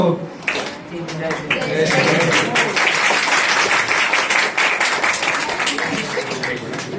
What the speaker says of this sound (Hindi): एक बार पुनः जोरदार तालियां पाठशाला के विद्यार्थियों के लिए